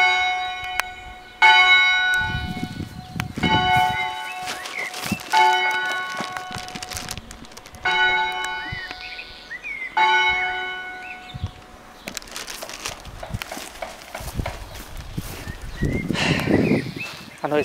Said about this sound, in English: Just waiting to get the bells.